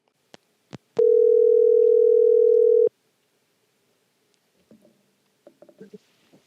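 A telephone line clicks a few times, then a steady dial tone sounds loudly for about two seconds before cutting off, followed by soft scattered clicks and rustles.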